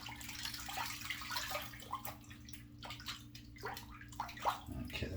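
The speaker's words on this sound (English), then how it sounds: "Let me wash my hands off." Water runs steadily from a tap while hands are rinsed and rubbed beneath it, a soft continuous splashing with faint sloshes, close by and alone.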